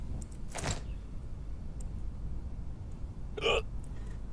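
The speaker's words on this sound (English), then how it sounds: "Hiccups." A character hiccuping in the video game Quarantine Zone, two short sharp hiccups about three seconds apart over a quiet low background hum.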